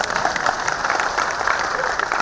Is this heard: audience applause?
yes